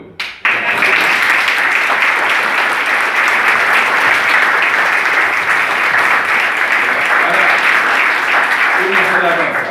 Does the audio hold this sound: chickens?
no